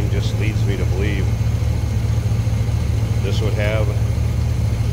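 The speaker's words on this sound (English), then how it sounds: "That big block runs smooth too, wow." A big block V8 in a 1968 Chevrolet Corvette C3 coupe idles smoothly and steadily, close up, with a low continuous rumble while someone talks over it.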